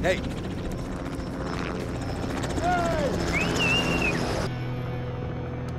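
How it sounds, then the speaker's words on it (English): A helicopter's rotor thrums steadily in the background while people talk and shout nearby, with a faint whistle and a rising tone above. "helicopter. And that's not our helicopter."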